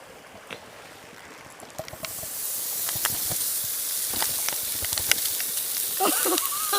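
Food hits a hot pan, and a soft hiss rises into a steady sizzle with scattered crackles and pops, close by but fairly quiet.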